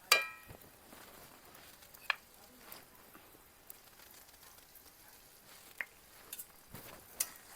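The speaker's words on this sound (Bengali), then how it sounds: "এইবার আমি দিয়ে দিচ্ছি পেঁয়াজ কুচি" Chopped onion dropped into a pan with chicken and salt, stirring and frying with soft sizzle and scattered clicks of utensil against pan, fairly quiet and close, no talking.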